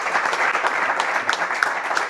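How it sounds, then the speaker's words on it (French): A live studio audience claps for a performer on a comedy show, a brisk, even burst of applause filling about two seconds at close, fairly loud level with no talk over it. "On applaudit Caro, bravo."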